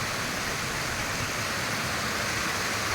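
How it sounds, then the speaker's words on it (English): Waterfall beside the stepped path up to Stickle Tarn in the Lake District, a steady broadband rush of falling water, close and continuous with no talk. "There's another waterfall here."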